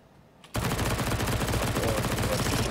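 An MP9 submachine gun fires in Counter-Strike, opening abruptly after a brief quiet moment into a dense, sustained rapid burst of loud shots that runs to the end.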